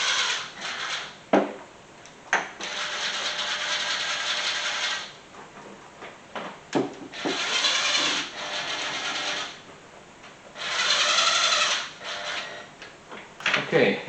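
Rocker arm bolts are run down on an engine being reassembled, using what sounds like a power tool. It gives repeated whirring bursts of a few seconds each, close and loud, separated by short pauses with small clicks.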